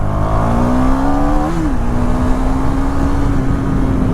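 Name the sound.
KTM Duke 390 motorcycle engine revving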